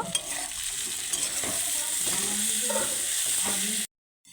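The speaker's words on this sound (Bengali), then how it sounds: "এবার একটা পেঁয়াজ কুচি দিয়ে দেব। দিয়ে একটু ভালো করে আবার নেড়ে নেব।" Chopped onion fries with spices in oil for a Bengali ridge gourd fry, a steady loud sizzle with repeated scraping stirs of a spatula, then cutting off to silence near the end.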